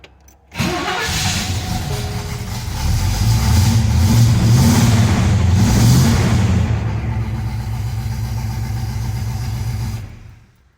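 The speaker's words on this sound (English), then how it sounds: "So that is the engine firing or starting." A carbureted classic car engine catching and firing after cranking, roaring up loudly then settling into a steady, close rumbling idle that cuts off at the end.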